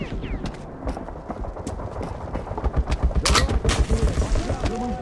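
Rapid, close gunfire in Metro 2033, bursts of sharp shots with mechanical clatter that grow heavier and more rhythmic toward the end.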